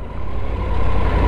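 A 2020 Triumph Tiger 900 Rally Pro motorcycle idles in a short, steady, low throb with a slightly uneven, wobbly pulse, heard close and alone.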